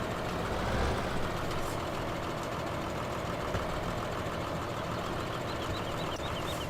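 A tractor engine in the video game Farming Simulator 2015 runs at a steady idle, with a continuous low diesel drone that stays loud and unchanging from start to finish.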